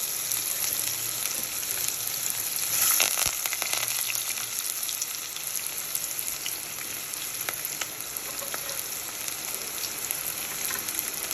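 Onion sizzling in hot oil with cloves and cinnamon for a mutton curry, a steady close crackle and hiss running evenly throughout with no talk over it.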